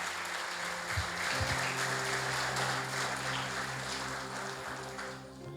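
Continuous applause from a church congregation, steady and fairly loud throughout, with a low musical hum underneath.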